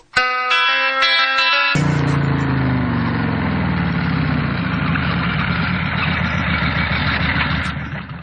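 A motorcycle engine starts up close by after a brief run of bright musical tones, then runs loudly and steadily with a rough low rumble for the rest of the clip.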